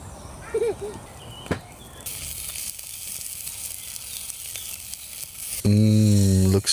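Sausages sizzle on a medium-sized gas camp grill with a steady hiss that starts after a couple of seconds, broken near the end by a loud voice.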